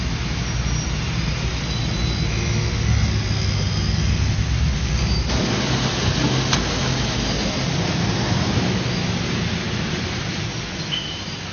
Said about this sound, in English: The taxi took me through the centre of Kuala Lumpur